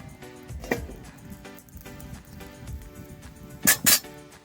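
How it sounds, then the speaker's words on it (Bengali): A metal kadai set down on a stove in a home kitchen: a few scattered light clinks and knocks, then two sharp bright metallic clanks close by near the end. "এবার আমি কড়াইটাকে বসিয়ে দেবো।"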